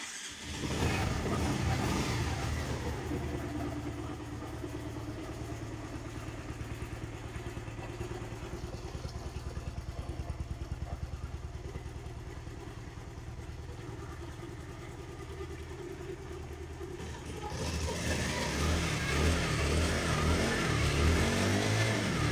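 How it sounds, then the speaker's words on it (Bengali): A 2020 Bajaj Pulsar 150cc motorcycle with about 10,833 km on it runs steadily at close range, its engine idling with a brief rise in revs near the start and again toward the end. "বাইকটির সাউন্ড কেমন আছে, সাউন্ডটা আমি আপনাদেরকে শোনানোর চেষ্টা করব"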